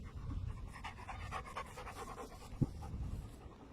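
Dog panting rapidly and steadily at close range, a rhythmic run of breathy huffs that continues throughout, with a brief bump partway through and no talking.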